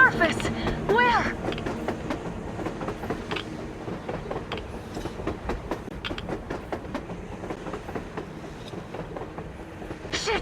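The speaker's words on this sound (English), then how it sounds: "A train! A damn train on the surface!" A train rumbles past on the surface in the video game Metro Exodus, a continuous clattering roll of wheels with rhythmic clicks, while voices speak over it.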